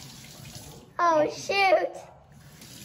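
Tap water runs into a spray bottle in a hot house, a steady hiss of filling water beneath a young voice that briefly exclaims over it.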